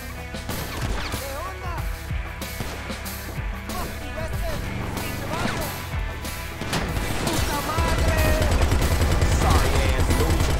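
Heavy .50 caliber machine gun fire in a chaotic GTA Online shootout, with dense rapid bursts and crashing impacts over game music, growing louder and heavier toward the end.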